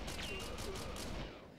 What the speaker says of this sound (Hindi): कुछ तो बहुत ही तेज मार रहे हैं भाई गोलियां